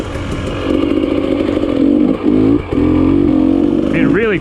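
An enduro dirt bike on a hard enduro trail holds a steady, close engine drone that dips twice and then revs upward at the end.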